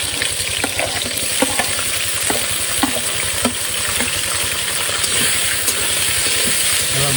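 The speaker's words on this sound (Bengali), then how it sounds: "তেল গরম হয়ে গেছে, এবার প্রথমে দেবো গোটা জিরা, টমেটো, পেঁয়াজ, আদা, রসুন, কাঁচা লঙ্কা।" Whole cumin, tomato, onion, ginger, garlic and green chilli fry in hot oil, a loud continuous crackling sizzle with a steady low engine-like rumble beneath, probably aboard a covered fishing boat.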